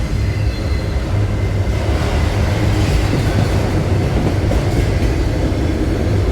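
A loaded westbound freight train with a single locomotive at the front rolls past close by, a steady, loud rumble of railcars with a faint rhythmic clatter of wheels throughout.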